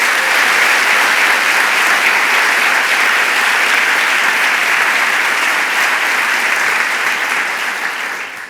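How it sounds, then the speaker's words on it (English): Enthusiastic applause fills a large room at a national security event, a dense, loud, continuous wash of clapping from a big audience that holds steady and fades slightly at the end. "I think we should give them all a round of applause"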